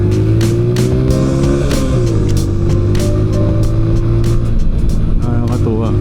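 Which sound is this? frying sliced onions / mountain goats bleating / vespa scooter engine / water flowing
vespa scooter engine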